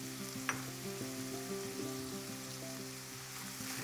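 Onions and tomatoes fry in oil for bottle gourd kootu with a constant, close sizzle and a short stirring scrape near the start. Soft steady tones, likely from a stove or fan, hum underneath.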